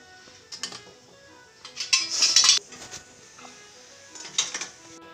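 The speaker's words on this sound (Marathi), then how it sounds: "आता हे आपण इडली पात्रात ठेवू" Filled steel idli plates set into an idli steamer, giving a few bursts of metallic clinking and clattering that peak midway, with quieter rattles at the start and end.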